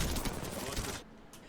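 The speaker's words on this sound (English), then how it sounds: "I also spot the Octane up here and he hits a couple of shots" Rapid bursts of automatic gunfire from an enemy Octane in Apex Legends crackle densely for about a second, then cut off sharply into near silence.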